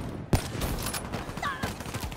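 Gunfire in Call of Duty: Black Ops III, with a sharp shot followed by rapid bursts of fire and impacts from several directions, dense and continuous, with a few faint electronic tones over it.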